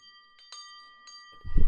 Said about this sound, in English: You don't need a little bell.